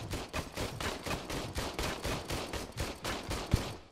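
Rapid gunfire cracks at a shooting range in the RoboCop: Rogue City video game, a fast, even string of repeated shots that runs steadily throughout, with no talking.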